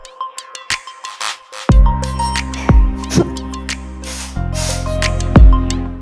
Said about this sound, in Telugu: room spray